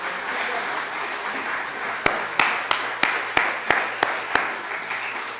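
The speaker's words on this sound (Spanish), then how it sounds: "Démosle un aplauso al Señor para despertar." Church congregation standing and clapping in unison, a steady run of about eight sharp, evenly spaced claps over a faint murmur of voices in a large room.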